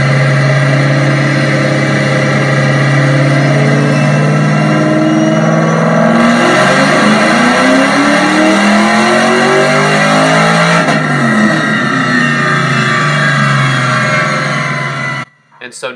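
Reassembled race car engine making 715 horsepower, running on a dyno at Robi Racing, loud and continuous for the whole stretch, droning near idle, then sweeping up and down in pitch through rising revs before cutting off sharply at the end.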